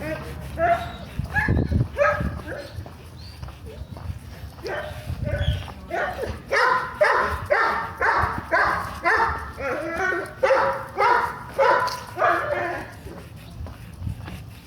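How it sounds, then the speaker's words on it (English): A big dog barks behind someone on an East End night walk, first a few scattered woofs, then a steady run of loud, regular barks repeating about once a second, fairly close. "there's like a big dog behind me"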